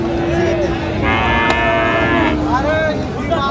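A cow moos once, loud and close, at a Dinajpur cattle market where Friesian and crossbred bull calves are being traded, with the steady murmur of the market crowd behind it.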